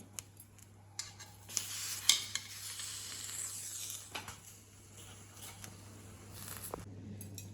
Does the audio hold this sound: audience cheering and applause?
no